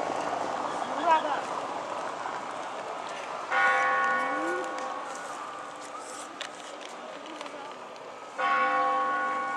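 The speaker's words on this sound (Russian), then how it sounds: "Бьют часы колокола Успенского собора." Church bells of the Assumption Cathedral in Kharkiv strike the hour, a few resonant bell tones ringing out over city street ambience, with someone speaking between the strikes.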